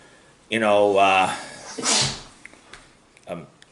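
A single loud, close sneeze, a drawn-out voiced inhale followed by a sharp burst, then faint quiet sounds.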